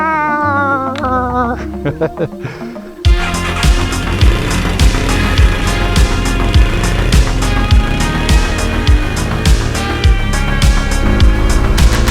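A Yamaha TW200 dual-sport motorcycle rides out on a spring day in North Idaho, its engine note rising through revs before settling into a loud, steady thrumming drone with rhythmic pulses.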